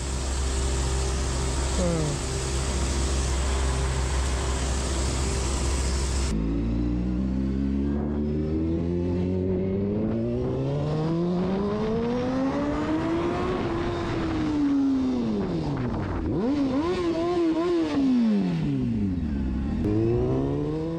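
A motorcycle with a 15-litre tank runs loud and close, its engine note held steady, then rising and falling through repeated revs and gear changes as it rides along, with no one talking over it.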